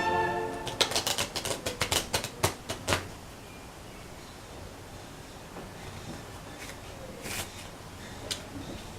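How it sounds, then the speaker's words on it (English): Playing cards being shuffled by hand during a card trick, a rapid burst of crisp riffling clicks close by in the first few seconds, then quieter scattered flicks and rustles. "I will shuffle 3 times"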